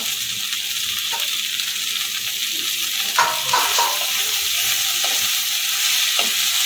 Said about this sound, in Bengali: সব একসাথে ভালো করে নেড়ে চেড়ে নেবো